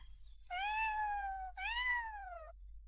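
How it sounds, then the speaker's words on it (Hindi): A thin white cat gives two long, clear meows in a row, close by and loud against a quiet low hum. "अरे यह बिल्ली बहुत सफेद है, बस थोड़ी पतली है।"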